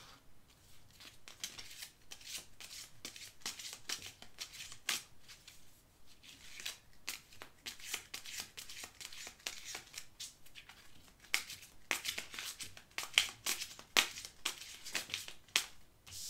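Viking oracle cards are shuffled by hand at close range, a long run of rapid crisp riffles and papery slaps with brief pauses, fairly quiet and with no talking.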